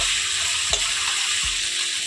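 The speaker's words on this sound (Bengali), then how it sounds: "এখন আমি খুব ভালোভাবে এখানে নাড়াচাড়া করে মশলাটাকে ভেজে নেবো" Spice masala fries in oil in a pan for cauliflower chop filling, a steady close sizzle with a couple of soft stirring scrapes, no voices.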